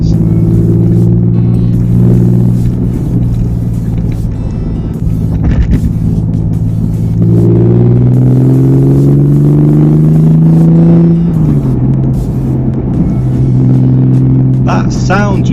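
A 1999 Porsche 911 Carrera rated at 300bhp revs its engine, a loud near growl that climbs and falls through several rising sweeps, with clattering and a voice speaking over parts of it.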